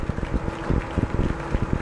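Onboard microphone on a Rocket Lab Electron rocket just after stage separation picks up harsh, steady roaring rumble with rapid low buffeting thumps throughout, close and unbroken, with no talk.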